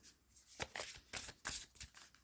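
Tarot cards being shuffled, a quiet run of crisp riffling flutters in several quick bursts, close by and alone.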